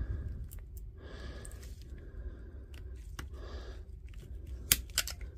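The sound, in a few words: cutting a Parkside battery pack apart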